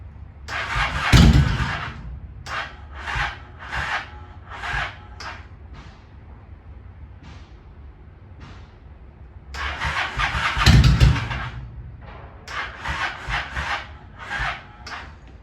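A 2001 Honda Shadow 750 ACE motorcycle is cold started twice: each time the starter cranks, the engine catches with a loud rough burst, then a run of short revs follows and settles before the next start.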